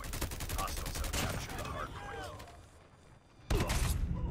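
Rapid gunfire in a ghost-themed video game, a dense burst of loud close shots followed by a quieter pause and then a sudden heavy blast, with talk faintly underneath.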